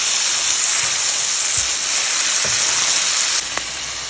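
Spices with a little salt and turmeric sizzle steadily in a hot pan for butter paneer masala, a continuous loud frying hiss that runs alone throughout and drops slightly near the end.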